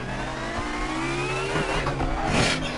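A BMW touring car in a racing video game accelerates hard, its engine note climbing steadily through the revs with a brief tire squeal near the end, loud and close.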